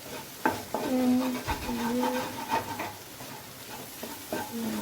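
Kothu chapati stirred and chopped in a hot pan, with loud metallic scraping and clanging strokes over a continuous sizzle, repeated at an uneven rhythm.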